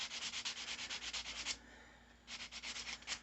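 An old finish is sanded off a wooden rocking chair by hand, with rapid rhythmic rasping strokes in two bursts separated by a short pause, loud and close with no talking.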